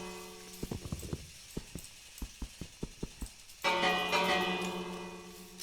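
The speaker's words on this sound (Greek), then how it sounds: "Πάω εγώ στην καμπάνα χτυπάω για να σπάσω νεύρα." A village bell in Minecraft is struck over and over, a steady run of sharp clangs that gives way to a longer, louder ringing tone near the end.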